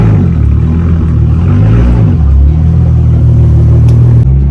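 A Lamborghini pulls out of a home driveway, its engine giving a deep, loud, close rumble with a brief rev in the middle before settling back.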